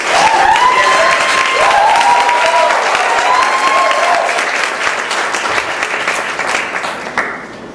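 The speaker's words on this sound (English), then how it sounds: "A big hand please for our awardees." A large audience at an arts awards ceremony applauds loudly and steadily for the awardees, the dense clapping holding for several seconds before thinning toward the end.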